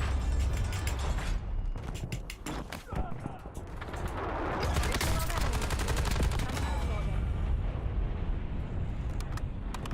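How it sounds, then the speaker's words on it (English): Weapon reloading in Call of Duty Warzone: dense mechanical clicks, ratcheting and metallic magazine handling, loud and continuous, mixed with gunfire-like game effects over a busy background, with no speech. "Changing mags"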